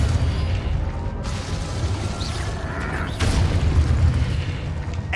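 Loud, rumbling spell blast from an Expulso cast in the video game Hogwarts Legacy, with a sustained roar, crackling bursts and a second surge partway through.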